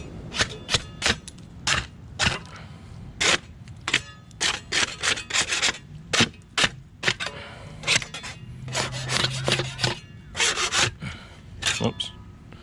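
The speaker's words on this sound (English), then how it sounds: "if you just take a little scraper like this, you can scrape them off" A small hand scraper scrapes barnacles off a boat hull in a run of sharp, rasping strokes at an uneven rhythm. The strokes are close and loud, with brief pauses between bursts.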